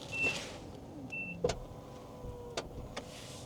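A faint electric whir of a Bigster Full Hybrid's power window motor closing, with a few soft clicks and thumps inside a quiet vehicle.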